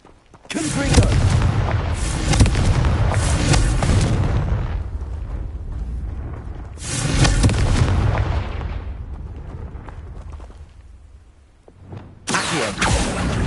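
Spell explosions in the Hogwarts Legacy video game: three loud, booming blasts, each bursting suddenly and rumbling away over several seconds before the next.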